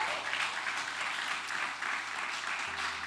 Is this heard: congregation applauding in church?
yes